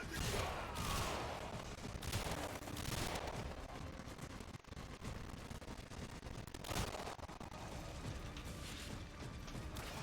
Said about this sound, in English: And now I just pan my camera and shoot anything that moves.